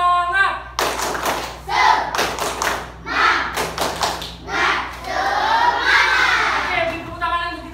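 Classroom of children in an Indonesian primary school doing a spirited group clap: loud bursts of rhythmic clapping and thumping mixed with children's shouts and voices, close and busy throughout.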